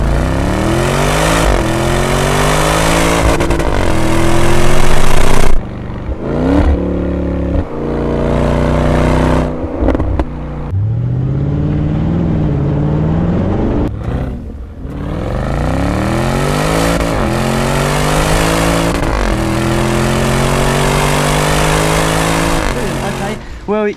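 Land Rover Defender V8 fitted with a QuickSilver Sound Architect exhaust in loud mode, loud repeated revving with rising and falling pitch, brief drops to idle, and throaty bursts close up.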